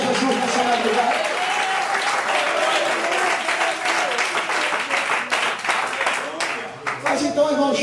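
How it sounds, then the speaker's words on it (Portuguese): Church congregation claps through a late-night evangelical service, a full, continuous wave of applause with some cheering voices, fading and swelling slightly toward the end. "Só você que acredita que tem um valor, aplaude e glorifica o nome do Senhor Jesus nessa madrugada."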